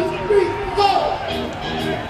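Crowd of people partying at a pub in Cape May, New Jersey, a steady babble of voices and cheering that stays busy and fairly loud throughout, with no single voice standing out.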